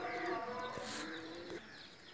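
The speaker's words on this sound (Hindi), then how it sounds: "ये इमाम दीन कबूतर के साथ लगाई है" Soft, low pigeon cooing close by, a couple of throaty coos against quiet background noise.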